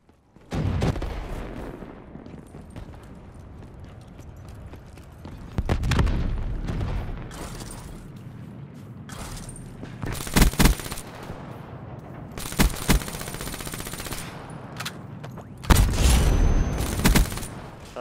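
Gunfire in the Black Ops 3 video game, with sharp bursts and single shots and a few heavy booming blasts spaced across the clip over steady background game noise.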